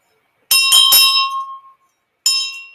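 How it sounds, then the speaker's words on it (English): A bronze school bell with its original clapper strikes loudly three times in quick succession, letting a bright, ringing tone decay, then sounds once more after a short pause, with no voices. "This is bell metal or bronze school bell. With its original clanger."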